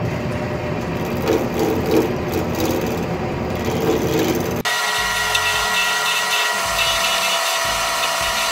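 A lathe spins a dense ebony fat cigar pen blank on a mandrel, making a steady mechanical whir; the tone shifts abruptly partway through to a higher, whining hum.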